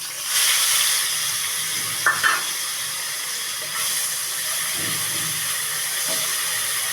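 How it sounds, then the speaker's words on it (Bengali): Onion paste frying in a pan for a doi katla fish curry, a steady bright hiss and sizzle running throughout with a few faint clinks, close and without talk. "পেঁয়াজ বাটাটা দিয়ে পেঁয়াজ বাটাটা ভালো করে ভেজে নেব।"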